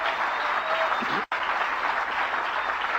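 A convention audience applauds in a steady, dense wash of clapping that holds at an even level throughout, broken only by a momentary dropout.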